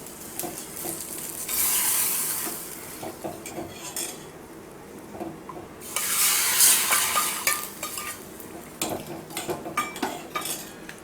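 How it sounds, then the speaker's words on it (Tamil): Rasam powder and garlic cloves being tempered in a pan for a Tamil New Year feast, with steady sizzling and frying, stirring, and clinks of a utensil against the pan in two louder bursts. "இதில் எடுத்து வச்சுருக்க ரசப்பொடி, பூண்டு பல் சேர்த்துக்கலாம். இதெல்லாம் நல்லா தாளிச்சு விட்டாச்சு."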